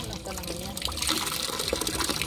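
Clear water trickling and splashing steadily nearby, heard from a tap or container outdoors, with some voice-like sounds mixed in around it.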